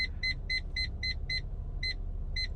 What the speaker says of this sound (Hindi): अभी करीब हूँ तो बीप कर रहा है